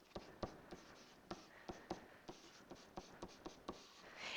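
Marker or pen strokes sketching an equation by hand on a board, a series of sharp, close taps and short scratches in an irregular rhythm, with no talking.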